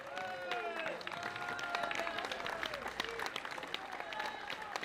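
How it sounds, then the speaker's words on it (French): Audience applause fills the hall after a performance of an Arabic-language song at a peace-themed event, with steady dense clapping throughout and voices calling out over it. "On peut les applaudir."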